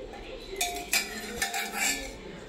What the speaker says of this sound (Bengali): এবারে আমি উঠিয়ে বাটিটার মধ্যে রেখে নিচ্ছি।